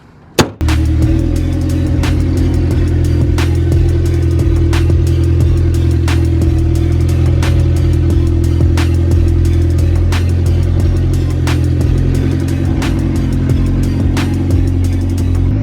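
A Honda CR-V engine idling with a surge, a loud close steady rumble that starts abruptly after a brief sharp knock and holds with slight rhythmic pulsing throughout.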